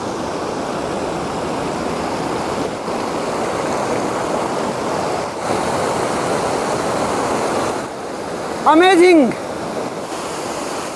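Chandri waterfall in Kaimur, Bihar, a steady broad roar of falling water heard nearby, with a short burst of a spoken voice near the end rising over the rush.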